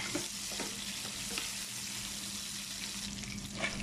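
Garlic and onion sauté in hot oil for a mussel dish, giving a faint, continuous crackling sizzle with occasional soft stirring sounds, heard alone.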